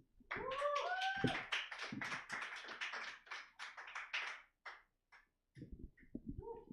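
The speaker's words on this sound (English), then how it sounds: "Keep it going, man. Keep clapping. Keep clapping." Scattered audience clapping at a stand-up comedy showcase, a burst of individual claps that thins out and stops, with a few faint voices and laughs mixed in and a brief clatter near the end.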